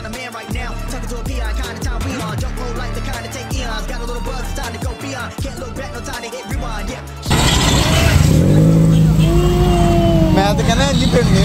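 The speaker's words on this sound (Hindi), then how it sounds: "boys the exhaust is on" A car engine revs loud and raw through a newly fitted exhaust pipe with no muffler. The blat is rough and sustained and comes after a stretch of music, and people talk over it.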